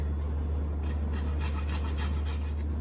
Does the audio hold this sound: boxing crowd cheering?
no